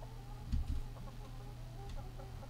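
Tamed chickens in the survival game Atlas give a few short clucks at the start over a steady low ambient game hum, with no talking.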